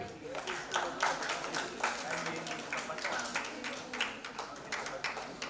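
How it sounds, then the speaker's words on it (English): Students at a coaching centre event clap as a BCom student is called on stage, a moderate spread of hand claps heard somewhat distantly with voices over it. "Round of applause for this man."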